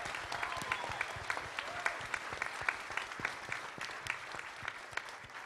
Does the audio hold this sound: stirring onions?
no